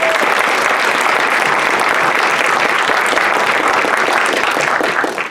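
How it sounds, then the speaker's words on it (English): Sustained, loud applause from an audience at a community panel discussion in Omaha, dense steady clapping for the panelists that fades slightly at the very end, with no talk over it. "Big round of applause for them."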